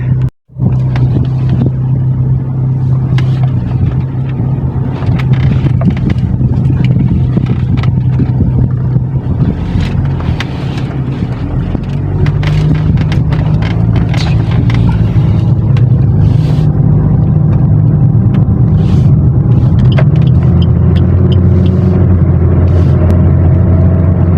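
Car driven on a pizza delivery run, a loud steady engine drone with road and wind rumble that holds throughout, shifting pitch as the car changes speed, with scattered knocks and clicks.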